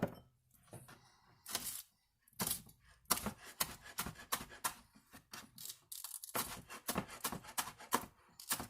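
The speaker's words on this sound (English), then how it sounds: "Then you want to chop up your onion." An onion being chopped with a knife on a cutting board for Korean barbecue beef, with loud, close, rapid knife strikes in uneven bursts separated by brief pauses.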